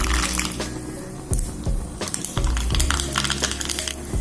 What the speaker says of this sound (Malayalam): ചൂടായ എണ്ണയിലേക്ക് ആദ്യം തന്നെ നമുക്ക് കടുക് ചേർക്കാം.